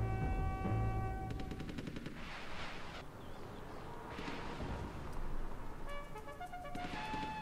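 Anti-aircraft guns fire in the strategy game Rise of Nations, rapid rattling bursts of gunfire layered over a dense battle din of explosions and rumbling, with sharper volleys near the start and end.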